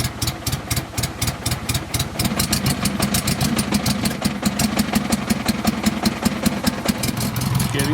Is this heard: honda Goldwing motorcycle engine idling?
yes